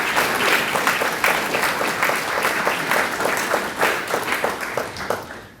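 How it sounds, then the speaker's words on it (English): Audience applause at a high school Academy of Finance graduation ceremony, steady clapping from a crowd with individual claps standing out, sustained throughout and fading slightly near the end. "please give them a round of applause"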